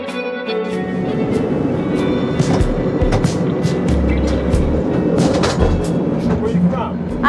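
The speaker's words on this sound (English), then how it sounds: "I'll show you what it's like to ride this tram." A San Francisco cable car tram rides along California Street, with a loud, steady rolling rumble, rattling and track clatter, and occasional clanks. Voices can be heard faintly beneath the din.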